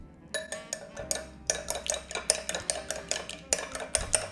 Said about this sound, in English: So I'm going to beat my eggs